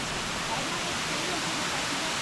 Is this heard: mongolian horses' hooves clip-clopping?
no